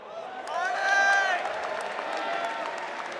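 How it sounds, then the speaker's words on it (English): An esports arena crowd at a Parting versus FnaticRain pool-play game cheers, whoops and claps, the noise swelling to a peak early on and then settling into a steady roar. "And the crowd goes wild."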